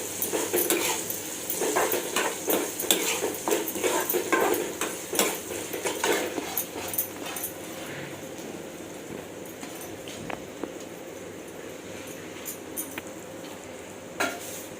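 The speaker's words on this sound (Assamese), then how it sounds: "এতিয়া মই এইখিনি 2 মিনিটমান ফ্ৰাই কৰি লৈছোঁ" Garlic for pickle frying in a pan, with a soft steady sizzle under scraping and clinking of a spoon stirring against the metal, busier at first and then settling into quieter frying with occasional knocks.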